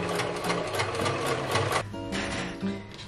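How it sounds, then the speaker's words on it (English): Sewing machine stitching quilt fabric for a Christmas quilt, a loud, close, rapid mechanical whir with a regular chattering needle rhythm that runs almost continuously, briefly easing near the end. "So I'm gonna go this way and sew this together."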